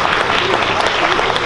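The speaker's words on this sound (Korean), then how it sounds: "여기 내리는 분들은 박수 좀 주시기 바랍니다" Audience clapping at a high school entrance ceremony in a hall, a dense, steady burst of applause for the whole stretch.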